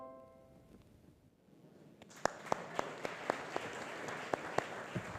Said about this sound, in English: A round of applause for that message there.